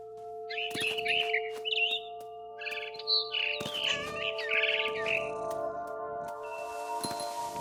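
Barn swallow chirping in the video game What Remains of Edith Finch: a string of bright, rapid chirps and twittering calls over a steady tonal hum of background music, fairly close and clear.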